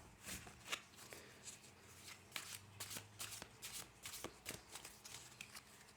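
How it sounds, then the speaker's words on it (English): A deck of oracle cards is shuffled quickly by hand up close, with soft riffling and flicking bursts in an irregular patter. "Okay, giving them a quick shuffle."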